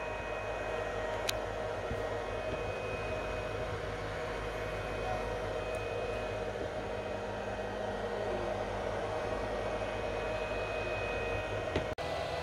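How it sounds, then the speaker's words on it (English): An AnyCubic Cobra Max 3D printer runs mid-print, giving a steady fan-like whir with a constant tone, fairly quiet and unbroken apart from a brief click near the end. "This is a 3D printing progress after 1 hour and 10 minutes."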